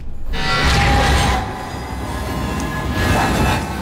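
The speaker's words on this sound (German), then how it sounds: "Kommt doch ein Zug." A train rumbles past in the Alien Isolation video game, a loud, sustained rolling roar with metallic squeal and screech layered over deep low rumble for the whole stretch.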